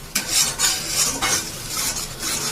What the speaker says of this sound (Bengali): মশলাটা একটু ভালো করে কষিয়ে নিই